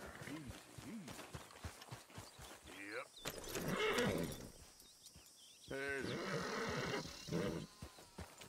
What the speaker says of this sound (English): That's a fast fucking horse.